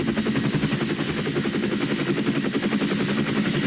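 An Indian Air Force helicopter on the ground ahead of takeoff gives a loud, continuous rotor thump and turbine whine, rapid pulsing chop over a steady high-pitched engine tone, close and filling the scene.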